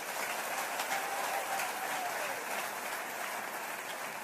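Congregation applauding in church, a steady wash of clapping from many hands that stays even and fairly loud throughout, with no voices clearly standing out.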